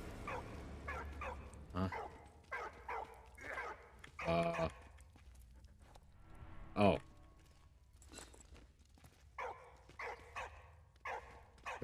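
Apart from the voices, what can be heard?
dog barking in video game Valiant Hearts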